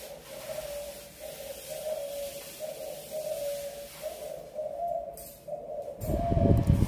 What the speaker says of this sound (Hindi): आप सभी को एक पक्षी की आवाज़ सुनाई दे रही है।